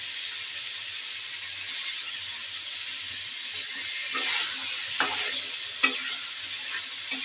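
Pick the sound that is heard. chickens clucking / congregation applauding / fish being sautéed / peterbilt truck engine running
fish being sautéed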